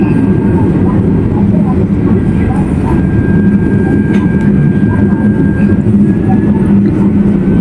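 Inside a moving train, a loud, steady low rumble of wheels and carriage fills the whole stretch, with a faint high whine above it.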